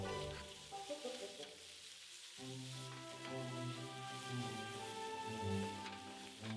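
Steady sizzling of steak frying in duck fat in a hot pan, the crackle swelling louder after a brief dip, with occasional spatters and scraping.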